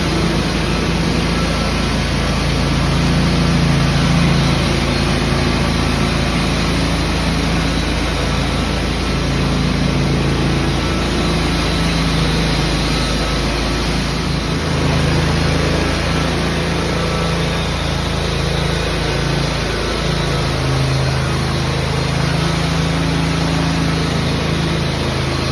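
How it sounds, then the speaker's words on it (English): A large floor grinder works a garage concrete floor in preparation for a polyurea coating, giving a steady, loud motor drone with continuous gritty grinding noise throughout, no pauses. "Then they come around with the large grinder."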